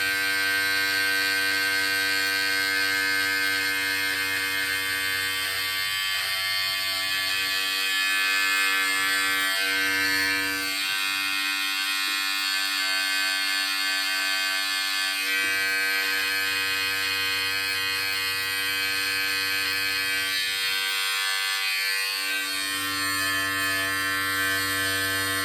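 An electric trimmer buzzes continuously for a long stretch while it trims a beard, its close, steady drone easing slightly as it moves across the hair; no voices.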